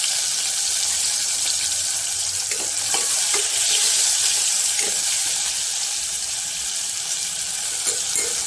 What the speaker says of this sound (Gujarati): રાઈને જીરું તકડી ગયું છે